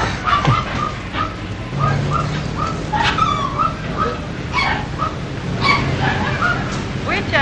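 A dog barks and yips in short bursts amid people speaking, with overlapping voices and some background noise throughout.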